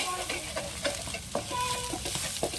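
Chicken fried rice ingredients sizzle in a pan as a spoon stirs them repeatedly, producing a constant frying hiss punctuated by regular scraping clinks close by.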